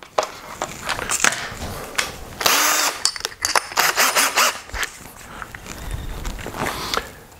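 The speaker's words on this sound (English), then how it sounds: "Step one is just drill out the damaged thread using the drill bit" A hand drill bores out a damaged thread in an aluminium bung, giving loud, uneven whirring bursts with scraping and clattering handling noises between them.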